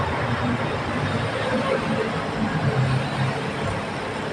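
BTS Skytrain Silom line train at platform 3 of Saphan Taksin station, a steady, close rumbling hum of the rail car that holds even for over four seconds, with no clear speech.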